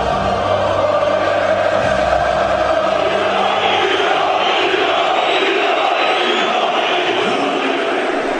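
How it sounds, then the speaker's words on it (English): A big, roaring football crowd at a Hajduk Split versus Dinamo Zagreb match, a loud continuous wall of chanting and shouting that holds steady from start to finish. "Inside the ground, the crowd were coming to the boil."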